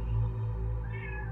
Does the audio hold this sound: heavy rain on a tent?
no